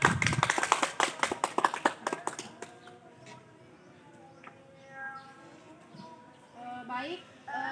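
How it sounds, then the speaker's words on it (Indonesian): A classroom of students applauding, loud dense clapping that thins out over a few seconds and gives way to quieter room noise and faint voices. "Berikan aplaus dulu untuk kita semua"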